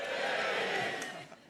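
A theatre audience at a Royal Variety Performance bursts into a loud, dense cheer that holds for about a second and then quickly fades away.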